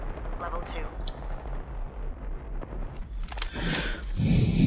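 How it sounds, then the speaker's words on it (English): Gunfire in the battle royale game Apex Legends, a few sharp shots near the end with a louder low burst, over constant game ambience and hum. "The shots are coming northwest."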